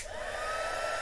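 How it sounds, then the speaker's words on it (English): A heat gun blows steadily close by on a papercraft desk, a continuous loud whooshing hum of hot air that stays even throughout without any talking. "And heat gun. Sorry about the noise,"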